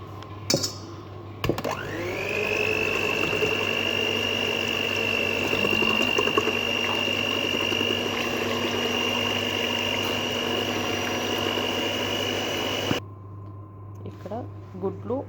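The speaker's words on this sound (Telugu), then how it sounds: "ఈ కప్ షుగర్ వేసుకుంటూ కొంచెం కొంచెం ఇవి బీట్ చేసుకోవాలి" An electric hand beater whirs steadily for about eleven seconds while it whips four room-temperature eggs with sugar for a dry fruit cake batter. The drone is even and close, and it begins and ends with clicks.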